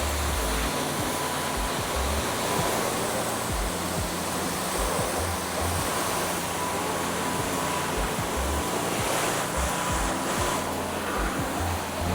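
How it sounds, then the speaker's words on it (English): A power washer sprays a truck, giving a loud, steady hiss of high-pressure water up close that continues without a break and with no one talking. "the power washer is what's taking it off"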